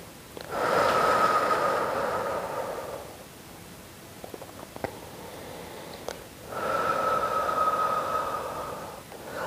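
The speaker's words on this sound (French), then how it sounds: "Expire. Inspire. Expire." Slow, steady breaths during a Pilates exercise, drawn in and pushed out as two long airy swells separated by a quieter pause with a few soft clicks, close and alone.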